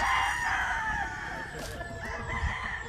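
A Budlat line gamefowl rooster crows loudly and close, its long call drawn out over the whole stretch, with other chickens faintly clucking behind it.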